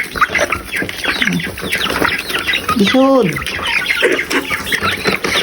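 A flock of chickens clucks and squawks busily while being fed, with a loud squawk in the middle, and a person briefly speaks over them.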